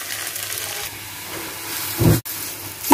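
Potatoes frying in oil in a kadai for aloo fry, a steady soft hiss and sizzle throughout with a brief louder burst near the end, no talking.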